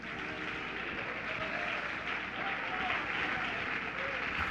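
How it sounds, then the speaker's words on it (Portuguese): A church congregation applauds in a dense, steady wash of clapping that holds at an even level throughout, with faint voices mixed into the crowd noise. "Palmas para Jesus."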